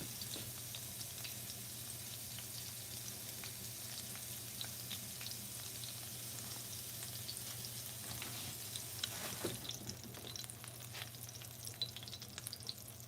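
Steady crackling sizzle of food frying in a hot pan, continuous and close, with a few louder pops and spatters scattered throughout.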